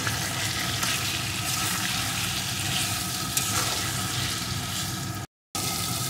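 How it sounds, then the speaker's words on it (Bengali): Spices, turmeric and salt sautéed in a pan for an egg and potato curry made without onion or garlic, a steady close sizzle with light stirring scrapes, broken near the end by a brief cut to silence. "এখন সমস্ত কিছুকে আমি সুন্দর করে কষিয়ে নেব"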